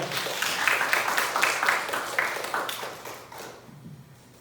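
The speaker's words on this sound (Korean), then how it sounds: "박수로 맞이해주세요." An audience at a student fashion marketing presentation applauds to welcome the presenter, a burst of clapping that holds steady and then tapers off to near quiet at the end.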